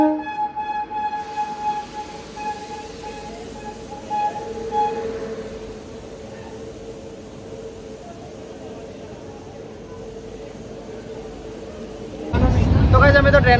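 A passenger train heading toward Somnath hums steadily from inside a carriage, with a rumbling rolling drone, a tonal horn-like whine early on and a sudden louder burst of rattling near the end, while people talk nearby.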